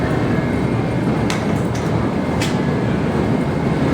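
New York City subway train in a station, a steady loud rumble and rattle of rolling stock with a couple of brief high squeals.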